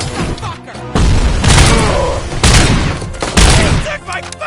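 Heavy gunfire in RoboCop: Rogue City, with loud booming volleys hitting in three or four separate bursts amid shouting voices and combat noise.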